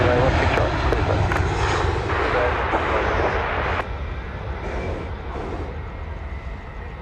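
Jet engines roar at night during takeoff at Sydney Airport, a loud, dense, sustained rumble that eases slightly partway through, with talk over it.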